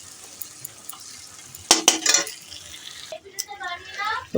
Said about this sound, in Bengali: পেঁয়াজটা কষছি